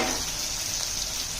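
Cabbage sabzi being stirred in a hot pan makes a constant, close, bright sizzling hiss, with no clear scrapes or voices.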